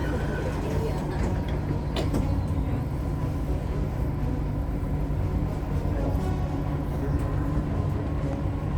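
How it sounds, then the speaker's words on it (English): Inside a Dubai Metro train, a steady low rumble and mechanical hum fill the car. Around the two-second mark a brief sliding knock is heard as the doors close. "Doors closing."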